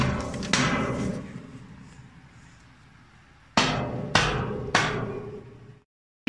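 Hammering during outdoor fence repair, starting with a few strikes and then a quieter stretch of dull thuds, followed by three sharp, loud blows spaced about half a second apart toward the end.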